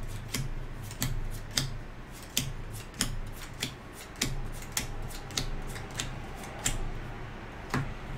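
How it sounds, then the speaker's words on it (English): Quick crisp card snaps as board game cards are dealt into two piles for Arcadia Quest Beyond The Grave, a steady series of close, sharp flicks roughly twice per second. "we're going to make 2 piles of 6 cards"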